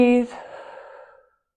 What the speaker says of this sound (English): Breathe.